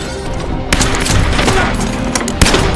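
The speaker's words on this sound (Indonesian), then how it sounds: "baku tembak pun kembali terjadi" Heavy gunfire crackles through a film shootout, loud close bursts of overlapping shots with a couple of sharp standout cracks, all packed into a few dense seconds.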